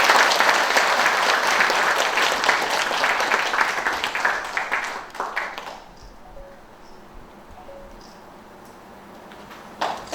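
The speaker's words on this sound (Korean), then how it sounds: "두 분께 다시 한번 축하의 박수 부탁드리겠습니다." An audience at a founding anniversary ceremony of the Yangsan history and culture institute claps in lively applause for about five seconds, then it thins into scattered claps and fades to a quiet room.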